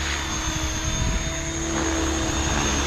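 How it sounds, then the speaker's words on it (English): A Synergy 516 RC helicopter flies nearby with a steady, loud rotor whine and a hum from its motor. The sound holds constant, with no talk over it. "Wow, what a beautiful flying helicopter"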